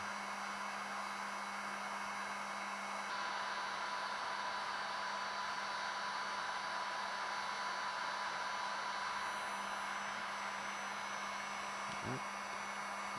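Heat gun turned about three-quarters of the way up, warming an acrylic sheet before bending; a steady, close, continuous blowing hiss with a low hum, running alone throughout.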